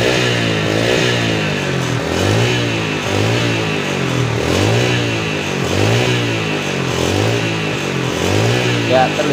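A Yamaha Jupiter Z motorcycle with oil burning and white exhaust smoke revs repeatedly, its engine rising and falling in regular, loud surges close by, with no talking.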